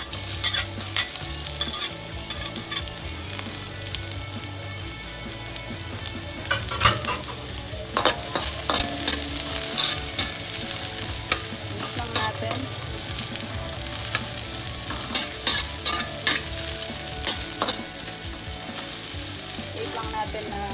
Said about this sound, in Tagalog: pag mainit na yung kawali, tsaka yung mantika, agisa natin yung bawang. Then, sibuyas.